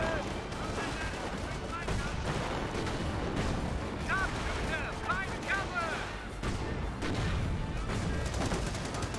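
Artillery fire in Company of Heroes: a steady, dense wash of gunfire and booming shots with a few whistling tones mixed in, sustained throughout and heavy enough to bury the talking heard underneath.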